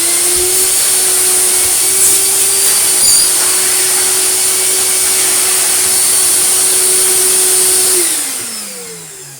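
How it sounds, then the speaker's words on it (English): A refurbished Goblin Aquavac Bulldog vacuum cleaner with its original motor runs close and loud with a steady whining drone, then powers down and the pitch falls as it winds off. "very good suction now from its humongous"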